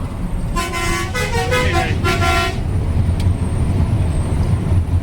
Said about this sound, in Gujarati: અત્યારે ગાડી જાય તો જો ભાઈ